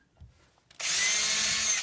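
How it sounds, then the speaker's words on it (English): A small power drill bores into a cigar box guitar fretboard to make holes for nail inlays, a steady loud whine starting after a short pause and running without a break to the end. "get a little drill"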